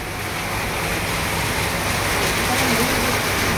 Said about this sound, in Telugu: వర్షం అయితే దుమ్ముగానే పడుతుంది ఫ్రెండ్స్